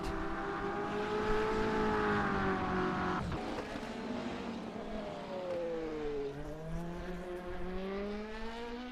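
Engine of a BMW M8 race car in an endurance sim racing qualifying session rises and falls through gear changes, with revs sweeping up and down and another car faintly passing, steady and moderately loud with no voices.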